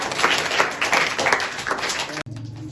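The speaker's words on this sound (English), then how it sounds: "Huge clap for Afnan." An audience at a school event claps for a student who has just read on stage. The applause is brisk and full for about two seconds, then stops abruptly.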